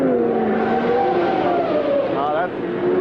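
Penske Indy race car pulling away from a pit stop at the 1978 Rex Mays 150, engine note climbing and then sliding down as it leaves, a loud continuous whine with a commentator talking over it.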